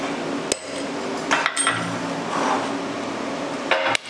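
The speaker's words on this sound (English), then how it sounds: "So now I should be able to just punch it through." Sharp metallic hammer blows punch a ground-off rivet through a motorcycle chain link while building a chopper, a few isolated strikes with quiet gaps between them, close and clear.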